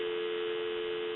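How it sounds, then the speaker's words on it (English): A landline telephone's steady dial tone hums continuously and evenly, heard alone for just over a second. "Give you some dial tone."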